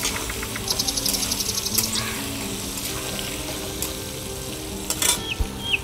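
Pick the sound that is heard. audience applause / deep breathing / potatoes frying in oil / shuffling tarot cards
potatoes frying in oil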